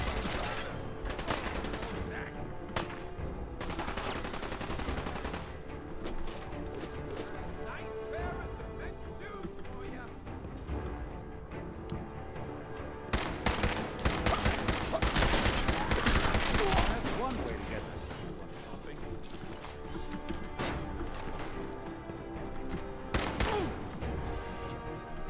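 Gunfire in the video game Fallout 4, dense bursts of shots in two heavy stretches over a continuous bed of game noise and music, with talk running through.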